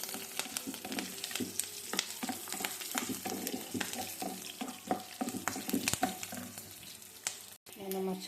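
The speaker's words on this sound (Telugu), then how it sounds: "పచ్చిమిర్చి వేసుకోవాలి. ఇది కొద్దిసేపు వేగనివ్వాలి." Green chillies frying in a pan, a steady close sizzle and crackle with frequent sharp spatula clicks and stirring taps, then a brief drop to silence near the end.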